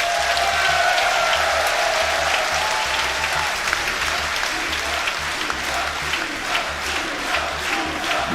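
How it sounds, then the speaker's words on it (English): A large crowd at the Yu-Gi-Oh! World Championship finals applauds steadily throughout, with cheering and rhythmic chanting mixed in, dense and continuous from start to finish. "Love to hear the chanting from the crowd."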